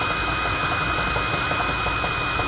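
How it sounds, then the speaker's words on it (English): A power drill with a 17/64 bit boring holes for helper spring mounting on a 2016 Winnebago Sunova motorhome, a steady loud whirring drone running throughout with no talk. "We're going to drill a hole, bottom hole and top hole on each side."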